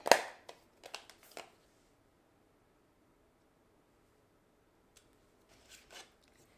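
Scissors snip through a paper card mat for a handmade scrap-paper card: a loud close cut at the start, a few quick crisp snips after, then a faint click and light rustle in near silence.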